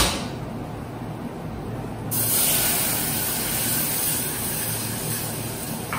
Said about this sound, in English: Let's put in cold milk.